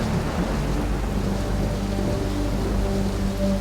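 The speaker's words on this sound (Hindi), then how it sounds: "दो दिन से लगातार बारिश हो रही है।" Steady, dense rain pours down continuously, a close, even hiss with a low rumble underneath and no voices.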